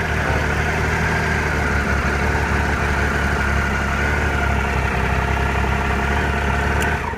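A 2013 Triumph Trophy SE motorcycle engine idles continuously with a steady, rumbling low, even throb and no voices, the note staying constant throughout.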